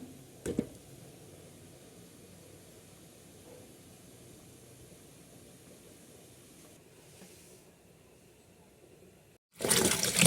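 Cut pumpkin pieces washed in water: a brief splash near the start, a long quiet stretch, then a loud rush of running, sloshing water at the very end.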